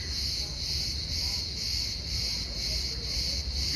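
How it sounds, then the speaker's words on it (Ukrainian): A steady, dense buzzing drone of cicadas in Turkey fills the whole stretch, loud and unbroken, with no voices. "другий місяць точно ми чуємо голоси цикад"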